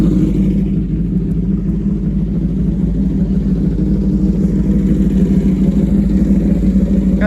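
Cars idling and rumbling at a Supra car meet, a steady loud low engine drone with faint clatter that continues without break.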